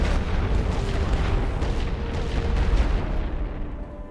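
Light artillery fires in The Great War: Western Front. A dense, continuous rumble of distant booms blends into a steady, heavy roar throughout.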